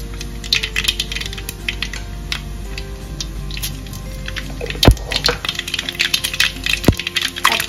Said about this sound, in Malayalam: ആ സമയത്ത് നമുക്ക് കടുക് ഇട്ട് കൊടുക്കാം.